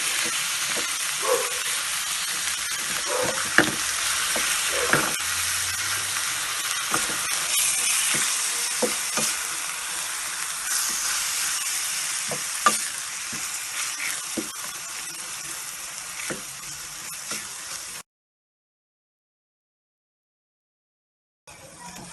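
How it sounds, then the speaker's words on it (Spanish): Meat searing in a pan with sautéed onion and garlic, a steady close sizzle punctuated by scattered stirring scrapes and taps, cutting off abruptly to silence near the end. "Vamos a agregar la carne, vamos a mezclar y a dejar que selle esta carne primero."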